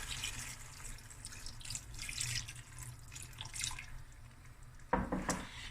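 Water is poured into a pot of crayfish curry cooking on the stove, a gentle splashing trickle with a few louder gurgles near the end.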